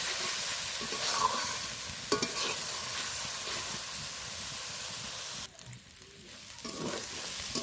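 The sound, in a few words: fish curry masala being sautéed in a pan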